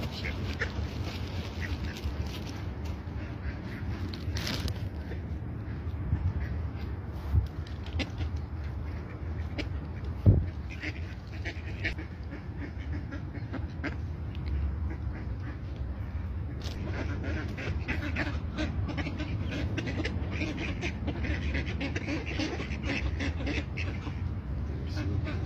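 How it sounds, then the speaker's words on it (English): Ducks quack repeatedly nearby as they are fed, amid outdoor background noise, with a person speaking now and then. "Feeding the ducks"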